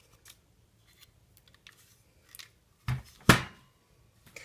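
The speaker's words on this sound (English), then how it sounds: "So we'll just take our paper snips and we'll just trim off one side of that mask." Paper snips cut through cardstock while trimming half of a paper mask for a craft punch project, a few faint snips followed by two sharper, louder cuts near the end, heard alone.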